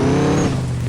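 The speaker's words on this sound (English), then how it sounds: "you can just hit the gas and it does a wheelie" A truck engine revs hard in a car video game, a loud close droning rumble with a steady low tone that eases slightly toward the end, with no one talking.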